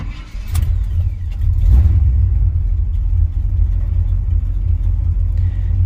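A 1979 Chevrolet C10 squarebody short-bed truck with electric choke cranks briefly, fires up and settles into a loud, steady rumbling idle, close by with no talk.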